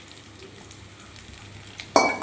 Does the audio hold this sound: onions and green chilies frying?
yes